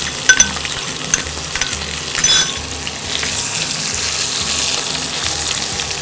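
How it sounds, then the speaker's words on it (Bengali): Onions fry in a pan for a rohu fish curry, a steady bright sizzle with a few clinks and scrapes of a utensil early on, growing denser and more even as it continues. "এবারে পেঁয়াজটা ভালো করে ভাজবে না হালকা?"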